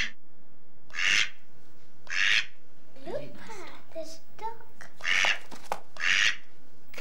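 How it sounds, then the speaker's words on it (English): A few short, nasal duck quacks sound in between bursts of a voice, fairly close and moderately loud. "Do you hear another duck quacking, Rachel?"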